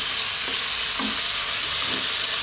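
Canned tuna hits a hot pan and sizzles in a steady, dense hiss that runs unbroken throughout, with faint stirring scrapes.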